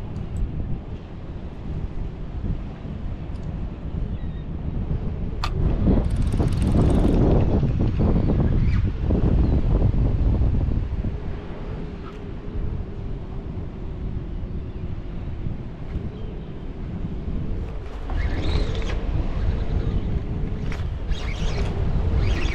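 Steady wind buffeting a microphone outdoors at the Cape Cod Canal, a broad rumbling roar that swells louder midway and again near the end, with faint water sounds beneath.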